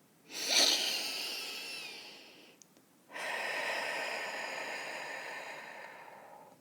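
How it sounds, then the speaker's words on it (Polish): A slow, audible breath in, a brief pause, then a long steady breath out, close and calm with no talking. "Weź powolny, spokojny oddech."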